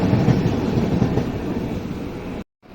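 The Wodeyar Superfast Express departing a station rumbles steadily with a low, heavy roar and rhythmic rail noise, loud and close, then cuts off abruptly near the end.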